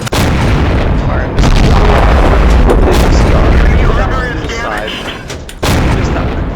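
A tank cannon fires in a tank video game, loud and close, with heavy booming blasts at the start and again near the end over continuous rumbling battle noise.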